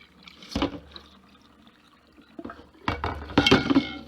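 Hot water is poured from a cooking pot into a kitchen sink, with a couple of splashing gushes and clinks of the metal pot against the basin, close and with no talk.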